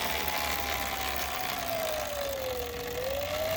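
Pedal-assist electric motor in eco mode spinning the wheel of a Sur-Ron electric bike, giving a steady whine that dips and rises slightly in pitch over a constant broadband hum.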